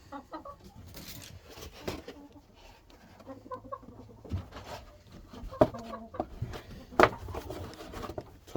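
Backyard hens clucking in short, irregular bursts at moderate distance, with occasional sharper squawks standing out against a low background rustle.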